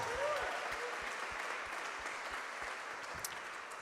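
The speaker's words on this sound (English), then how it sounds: "Give a round of applause" Jazz concert audience applauding an ensemble section at a homegrown jazz evening, a steady wash of clapping with a faint voice near the start, moderately distant and even throughout.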